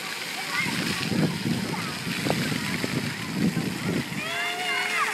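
Water splashing outdoors, steady broadband splatter and churn close by, with a child's and adult's voices talking over it throughout.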